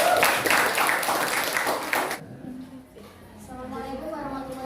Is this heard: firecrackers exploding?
no